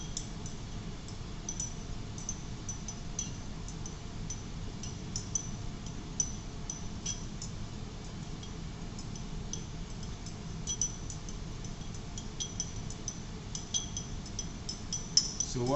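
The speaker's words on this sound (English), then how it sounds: "So what I'm doing now is to stir, okay, until the sodium acetate is dissolved" Stirring sodium acetate solution in glassware during a buffer and salt hydrolysis lab experiment: faint, irregular light clinks and ticks of a stirrer against glass, steady and quiet over low room noise throughout, with no talk.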